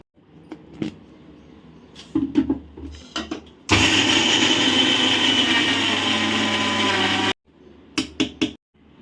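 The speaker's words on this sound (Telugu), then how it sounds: "ఇలా 5 యాలకులు తీసుకొని మిక్సీ పట్టేసుకుందాం." A mixer grinder whirs loudly for several seconds, grinding soaked, peeled almonds with cardamom pods, bracketed by clicks and knocks of handling the jar before and after.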